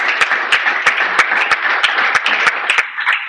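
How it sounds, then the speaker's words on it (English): An audience claps at an international annual conference, a dense applause with several sharp, loud individual claps standing out close by, steady for a few seconds. "please, another round of applause for us"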